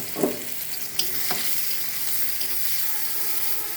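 Onions fry and sizzle in a pan with hot oil and potatoes for hilsa pulao, under a steady, close hiss and a few quick scraping stirs near the start.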